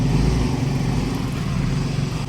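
A Yamaha Mio Gear 125 scooter with a check-engine, low-power fault runs steadily, a loud, close, even engine drone with no breaks and no talk.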